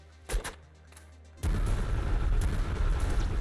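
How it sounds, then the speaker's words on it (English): In the video game Nuclear Throne, a blood cannon weapon explodes: a few faint game clicks give way to a sudden loud blast that rolls into a heavy, sustained rumbling roar lasting to the end. "Why does the blood cannon just kind of explode sometimes?"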